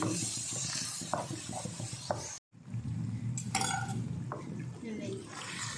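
Minced meat and peas sizzle in a pan while a utensil scrapes and stirs with repeated clinks, close and steady, broken by a brief silent gap.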